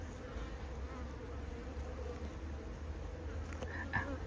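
Honeybees inside an opened hive hum in a steady, low buzz. A hive tool gently moves them, with a faint scrape near the end, and no one speaks.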